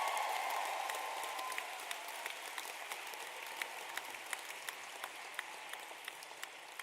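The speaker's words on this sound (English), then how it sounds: "A round of applause for everyone that took part." Sustained applause from a graduation ceremony audience, dense clapping that is loud at first and then eases to a steadier, slightly thinner patter with a few sharper individual claps standing out, no voices over it.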